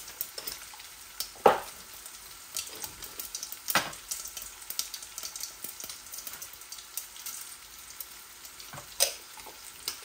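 Dry spices sizzle steadily in hot oil in a pot for a chicken and egg curry, with a constant crackling hiss and a few sharp utensil clinks and stirring scrapes close by.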